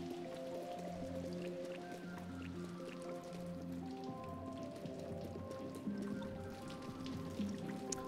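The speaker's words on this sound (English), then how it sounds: "It's been a heavy rain." Heavy rain falls steadily in the video game Little Nightmares II, a dense wash of drops pattering on surfaces, with low tonal game ambience humming underneath throughout.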